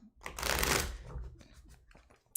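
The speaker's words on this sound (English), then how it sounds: "All right, a little more shuffling on the Thoth." Thoth tarot cards being shuffled by hand during a live reading, a dense papery riffling burst that swells and fades, followed by softer scattered card slides and a sharp snap at the end.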